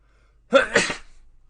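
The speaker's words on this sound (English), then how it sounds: "I sneezed." A single sharp sneeze bursts out close by after a short quiet lead-in, followed by a brief fading breath.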